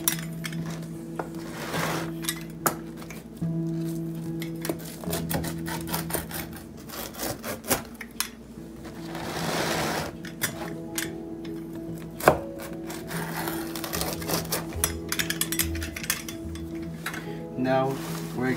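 A blade or cutter saws and crunches through a crispy cooked pizza, giving a steady scratchy rasp broken by sharp cracks and knocks on the board, close and fairly loud for the whole stretch.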